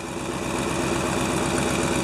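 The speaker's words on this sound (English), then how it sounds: "There's a look at the exhaust leak that I have" Steady, close engine idle from a 1997 GMC Suburban with an exhaust leak past the catalytic converter, a continuous rumble with a fast rhythmic puffing pulse throughout.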